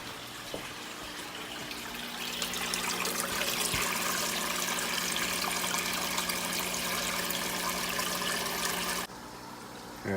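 Faucet water running steadily into a 55-gallon aquarium, a constant hissing rush that cuts down abruptly near the end, with no talk.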